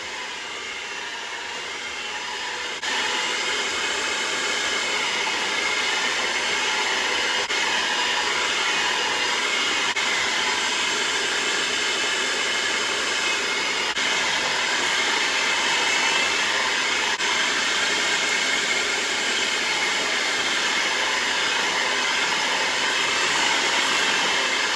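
An electric mixer beats eggs into pound cake batter with a steady, loud whirring hum that runs unbroken for about twenty-five seconds after a brief quieter start.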